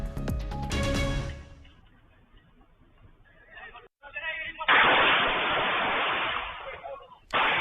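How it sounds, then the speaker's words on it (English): After a ringing musical tone and quieter rumbling, a loud sustained burst of gunfire from a night-time neighborhood shootout erupts, then cuts off abruptly. "Gunfire rings out during the night in a Lafayette neighborhood"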